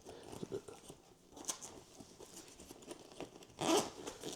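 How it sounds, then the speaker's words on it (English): Several rasping zipper pulls on a fireproof e-bike battery storage bag, short bursts with a louder, longer zip near the end, fairly close and with no talking. "a zipper"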